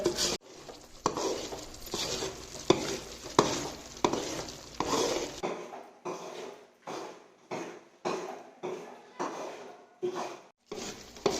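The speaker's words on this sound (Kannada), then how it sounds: "ಎಷ್ಟು ಚೆನ್ನಾಗಿ ಅದು ಬಬಲ್ ಬಬಲ್ ಆಗಿ ಈ ರೀತಿ ಅದು ಫುಲ್ ಪೊಳ್ಳಾಗಿ ಬರುತ್ತೆ" Thick Mysore pak mixture bubbling in a pan, with busy stirring and sizzling at first, then a series of regular, close scraping stir strokes separated by short pauses.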